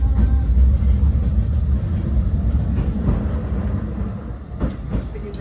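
A Blackpool tram running along the tramway between Starr Gate and Fleetwood, heard from on board as a loud steady low rumble with faint rhythmic clicks of wheels on rail, no voices.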